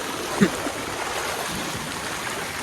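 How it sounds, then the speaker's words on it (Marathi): Floodwater released through five opened dam gates rushes past in a steady, moderately loud churning flow that stays constant throughout. "पाणी बघा किती आहे वाहून चाललं आहे"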